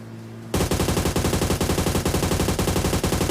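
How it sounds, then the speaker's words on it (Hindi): Gunfire in a video game sounds as a sudden, loud, sustained burst of rapid automatic shots that begins after a brief quiet moment and continues steadily to the end. "कोई और भी फायरिंग कर रहा है जो कि मेरे को दिख चुका है सामने पहाड़ी पे"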